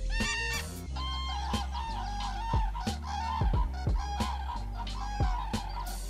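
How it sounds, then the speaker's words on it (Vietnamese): Common crane calls, a series of loud bugling, trumpeting notes repeated in an irregular rhythm with several overlapping birds, close and clear with no talking. "Xếu cổ trắng hay xếu thông thường là loài chim phổ biến nhất trong họ xếu"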